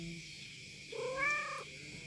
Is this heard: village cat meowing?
yes